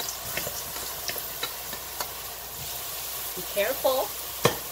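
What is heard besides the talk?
fresh chopped garlic frying in hot vegetable oil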